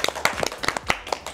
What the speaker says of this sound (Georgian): ტაში!